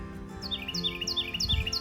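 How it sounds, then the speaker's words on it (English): Birds chirping and tweeting outdoors, a series of quick, bright repeated calls that recur steadily over a low background hum, moderately close and fairly quiet, with no talking. "do you hear those birds? It's just peaceful."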